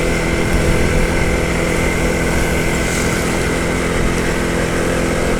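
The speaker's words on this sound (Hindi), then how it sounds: "हमने फिर भी मोटरसाइकिल पे सफ़र जारी रखा हुआ है।" A steady, loud engine drone with constant road and wind roar from a motorcycle cruising at speed in the rain, no voices.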